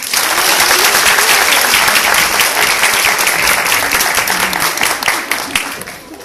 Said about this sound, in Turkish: Şimdi de alkışlarla Nurdan Kaya.